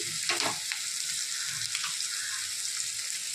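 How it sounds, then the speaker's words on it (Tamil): Chili powder sizzling as it is sautéed in hot oil for a mutton curry, a steady frying hiss with a few stirring scrapes near the start, alone without talk. "இதையும் நல்லா வணக்கிக்கோங்க மிளகாத்தூள்"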